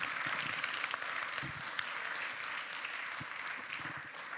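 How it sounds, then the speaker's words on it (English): Audience applause for workshop participants at a regional symposium, a soft, steady patter of clapping heard from a distance with faint room noise beneath. "a big applause to all of you for participating so well"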